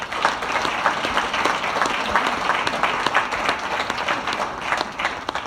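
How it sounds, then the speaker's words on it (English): Audience at a presentation breaks into sustained, dense applause from many hands, steady and close throughout with occasional whoops and sharper claps poking through. "Give yourselves a round of applause"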